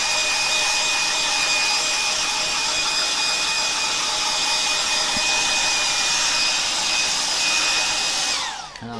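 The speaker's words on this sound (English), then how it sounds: "I'm going to get my hairdryer onto this" A hair dryer drying a painting blows with a steady, loud high-pitched whir for several seconds, then cuts off and winds down at the end.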